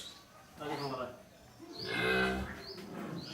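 A young calf, about a month and a half old, lets out two drawn-out moos on a farm, close by and moderately loud.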